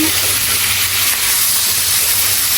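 Dried fish frying in a pan for a home-cooked Bengali shutki dish, giving a steady, close, even sizzle and hiss that runs without pause and without any talk.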